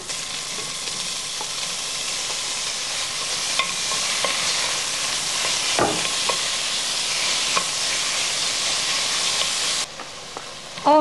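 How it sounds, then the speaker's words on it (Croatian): Pieces of beef frying hard in a pan with previously sautéed onion and carrot, a loud, steady broadband sizzle with faint stirring clicks throughout, briefly dropping near the end, no voices. "Junetinu izrežite na komade i dodajte prethodno pirjanom luku i mrkvi."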